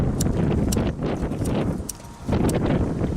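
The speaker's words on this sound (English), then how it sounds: "It got really cold fast, and the wind is howling." Strong wind gusting outdoors on a cold day beside a smoker fire, a steady broadband rush with rustling bursts that swells and briefly drops away mid-clip.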